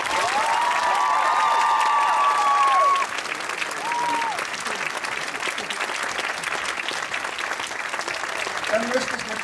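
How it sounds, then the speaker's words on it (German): Audience applauds child models at a Henschel & Ropertz fashion show, a dense wash of clapping from a large crowd that stays steady throughout, with a short tonal sweep and a voice over a loudspeaker briefly heard in the first seconds. "deswegen bei den Kleinen beginnend ein Applaus bitte"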